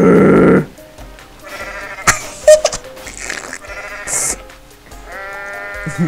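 A goat in the video game Goat Simulator gives several loud, nasal, buzzing bleats, broken by thuds and clattering game effects.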